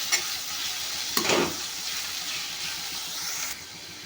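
Black-eyed bean masala fries in a pan with a steady broadband sizzle while a spoon stirs it, one louder scrape and splash near the middle, close and alone with no talking.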